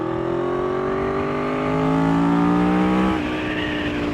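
A 1998 Honda VFR 800 FI motorcycle engine runs on the road, its steady drone climbing in pitch as it pulls, then dropping sharply as the revs fall near the end, loud and close throughout.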